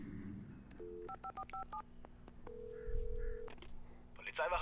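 Telephone keypad being dialed in the Alan Wake video game: a quick run of DTMF tone beeps in uneven rhythm, a steady tone following, with low game ambience and rumble beneath.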